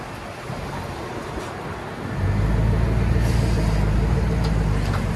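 Chevy Silverado 5.3L V8 with a Vibrant glass pack exhaust idling, a deep steady low rumble that swells louder partway through and then holds even, close by, with no talking.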